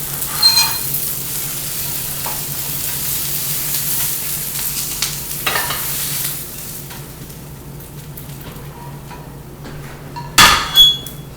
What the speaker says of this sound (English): You see that I'm touching it and it's pretty crispy. You can hear it like it's about to break.